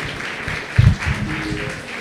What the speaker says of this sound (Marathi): त्यांच्यासाठी जोरदार टाळ्या होऊन जाऊ द्यात.